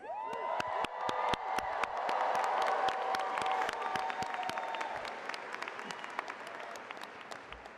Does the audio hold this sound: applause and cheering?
yes